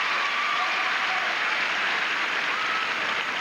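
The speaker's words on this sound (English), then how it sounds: "you hear the squeals for Agassi" Tennis crowd at the 1989 Masters squealing and cheering for Agassi, a dense, continuous wash of applause and excited voices that stays loud and steady throughout.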